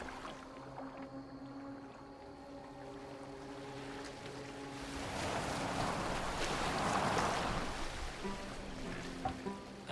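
A boat glides across the water in Assassin's Creed Valhalla, with steady rushing water and wind that swell midway, and no talk.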